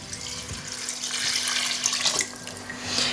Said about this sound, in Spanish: voy a agregar caldo, es caldo de verduras